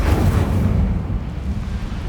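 An Incendio fire spell cast in Hogwarts Legacy, a loud, dense burst of rumbling, crackling fire and impact energy sustained for about two seconds, with no voices over it.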